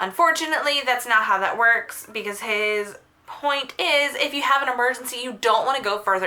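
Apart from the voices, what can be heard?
No everyday noise stands out behind the speech.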